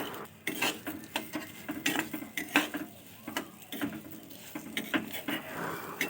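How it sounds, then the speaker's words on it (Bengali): Peeled garlic cloves being lightly fried and stirred with rice in a pan, a spoon scraping and clinking against the metal in uneven bursts over a soft sizzling background. "বারো কোয়া রসুন নিয়েছি এই রসুনগুলো চালের সাথেই হালকা করে ভেজে নেব"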